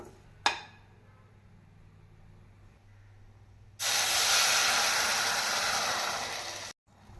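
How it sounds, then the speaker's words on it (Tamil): Water poured into hot roasted moong dal in a pan for sambar, a loud continuous hiss and sizzle of steam that bursts in suddenly and holds steady for about three seconds before cutting off, after a faint earlier click. "டம்ளர் தண்ணீர் ஊற்றிவிட வேண்டும்."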